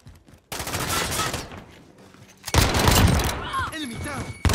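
Rapid automatic gunfire in a shooter video game, two sustained loud bursts separated by a short lull, with shouted voices and game callouts mixed in.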